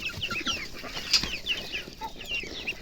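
Young chicks cluck and cheep around a spring onion patch, several small birds calling in short overlapping bursts close by, with a louder squawk in the middle and light rustling beneath.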